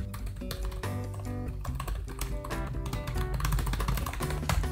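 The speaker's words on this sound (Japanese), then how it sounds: "タッチしている時の音はこんな感じになります。" Typing on the keyboard of an ASUS ExpertBook B9 (B9450), a featherlight 14-inch laptop, heard as steady rapid key taps mixed with prominent music, fairly loud and continuous.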